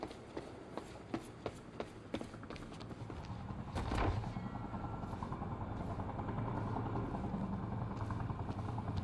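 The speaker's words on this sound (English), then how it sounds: "Better get inside before the chopper spots me." Helicopter in the video game Quantum Break, a steady rotor drone that holds through the whole stretch, with sharp clicks and a louder burst near the middle layered over the game sound.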